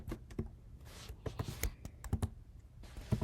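Computer keyboard typing in irregular bursts of quick keystrokes and clicks, close and moderately loud, while coding a Scratch Mario game.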